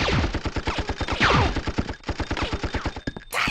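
Rapid automatic gunfire from the PS1 video game Apocalypse, loud evenly spaced bursts of shots firing continuously for several seconds, with a sweeping tone passing through midway and a sharp cut near the end, no talking.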